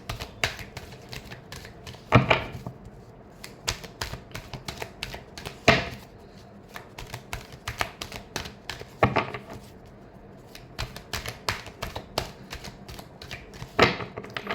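Tarot cards being shuffled by hand during a Pisces horoscope reading: a steady run of soft, dry card riffles and slaps, with a few louder snaps standing out, close up and with no talk over it.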